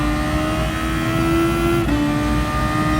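A DGT Thor race car on Suzuka in a video game, engine held at full throttle in a loud, steady high-pitched drone, with a brief pitch dip at a gear change before resuming.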